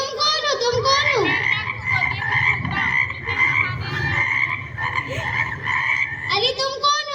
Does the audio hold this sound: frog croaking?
yes